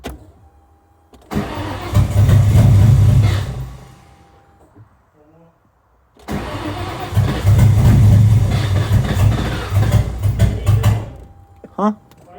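A Ford Mustang SN95 engine cranks and catches twice, each time a loud rumbling start that runs a few seconds and dies, with short quiet gaps and brief voices in between.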